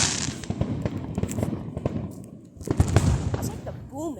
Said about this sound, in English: Okay, this is Florida fireworks here.